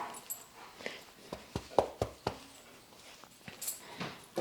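Small dogs shuffling and yipping softly, with scattered short clicks and scratchy bursts close by, no talking.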